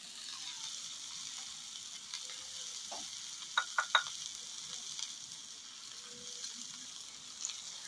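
Mashed flat beans fry in a pan, giving a faint, steady sizzle while a spatula stirs and scrapes with a few sharp clicks.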